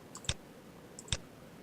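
Two sharp computer mouse left clicks, a few tenths of a second apart, close and crisp against a quiet room background with no speech.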